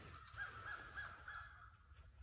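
Crows cawing near a tree, a few faint, distant caws spaced across a quiet outdoor background with low rumble and no talking.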